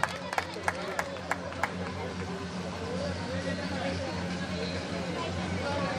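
An audience at a school silver jubilee celebration claps in a loose, sustained burst after a few sharp opening claps, with crowd murmur and hum mixed in beneath.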